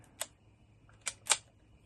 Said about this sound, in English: So we just wind that on there, and we take a click there.